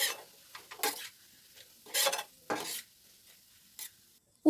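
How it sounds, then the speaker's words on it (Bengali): Coconut being stirred with milk in a pan, a spoon scraping in short separate strokes with small clinks, close and alone with no voices. "দিয়ে দেবো 1/2 কাপ মতো দুধ, দিয়ে আবার ভালো করে নাড়িয়ে নেবো।"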